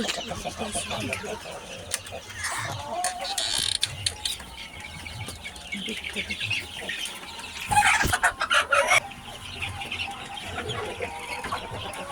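Farm chickens at a family poultry farm cluck and squawk repeatedly, with a loud burst of calls and wing flapping near the end, while a person speaks briefly among them.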